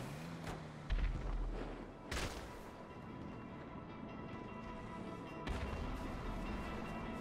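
An attacking plane in GTA V Online opens fire, loud bursts of heavy gunfire and impact booms breaking out in a few sharp clusters over a continuous rumbling game background.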